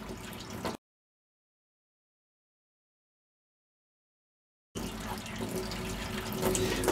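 Water runs from a tap in a steady hiss while rinsing a G-Shock watch, cuts to silence for a few seconds, then resumes flowing continuously.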